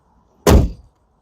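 A single solid, close thunk as an Ineos Grenadier off-roader's door shuts, short and heavy, then quiet.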